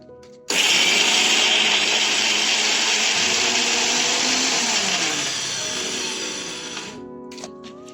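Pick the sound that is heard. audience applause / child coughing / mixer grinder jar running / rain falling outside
mixer grinder jar running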